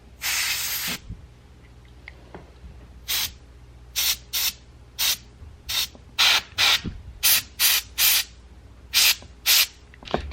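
Cleaner sprayed while cleaning a .45 ACP pistol: one long hiss, then a string of short, sharp spray bursts in quick irregular succession, close and alone over a quiet room.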